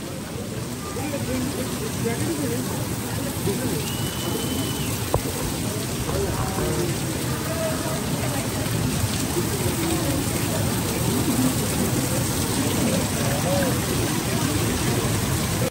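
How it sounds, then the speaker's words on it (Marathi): Steady heavy rain hisses continuously throughout in Matheran, with faint voices murmuring underneath. "इथे भरपूर पाऊस पडत आहे"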